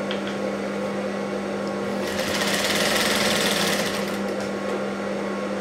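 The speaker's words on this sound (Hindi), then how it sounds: "पूरी हम लोग सिलाई मार लेते हैं सेम। यहाँ पे मैंने पूरी सिलाई मार ली।" An electric sewing machine stitching piping onto a blouse neckline runs with a loud, continuous motor hum and rapid needle chatter, briefly speeding up mid-run, with no talking.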